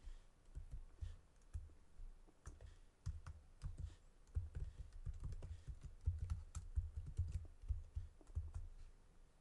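Quiet, uneven clicking of keys on a computer keyboard as a name is typed, with soft keystrokes arriving in short bursts and brief pauses, close and alone.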